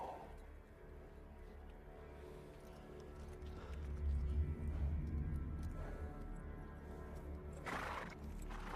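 A horse in the video game Barbarians 2020 snorts and whinnies with low rumbling footfalls and ambient background noise; a sharper whinny comes near the end.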